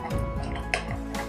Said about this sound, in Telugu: కొన్ని నీళ్ళు పోసుకుంటూ కలుపుకోవాలి